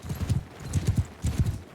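Horse hooves clip-clop in the Mount and Blade Bannerlord video game, with repeated groups of dull thudding steps in an uneven galloping rhythm, fairly close and continuous, with no talk over them.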